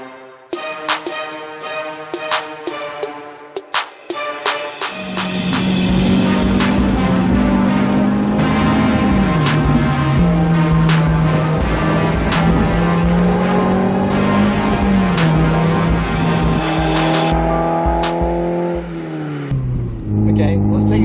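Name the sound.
Mazda MX-5 Miata NB driving on twisty roads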